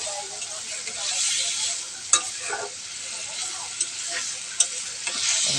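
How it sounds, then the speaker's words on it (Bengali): A raw hilsa fish curry fries with a ginger-cumin paste, giving a bright continuous sizzle broken by a few sharp spoon taps and scraping stirs against the pan, all heard up close. "মশলাটা আমি একটু তরকারির সাথে একটু ভালো করে কষাই নেব নাড়াচাড়া দিয়ে"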